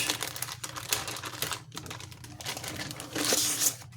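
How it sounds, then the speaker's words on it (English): A small knife slices through a box seal while a Lenovo ThinkPad T15p Gen 3 laptop is unboxed, giving a close, continuous scratchy crinkle of cutting and plastic handling with a few sharper snaps. "Let me get my little mini knife out here and we'll just cut that over"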